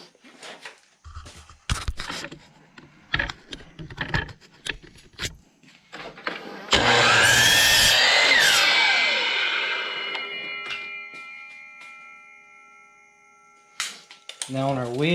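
A power saw cuts a short piece off the end of a 2x4 board for a ladder build, a loud sustained whine that fades as the blade spins down, preceded by scattered clatter and handling knocks.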